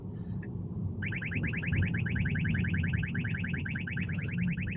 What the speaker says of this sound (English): Sorry about the radar detector. It's obnoxious right now.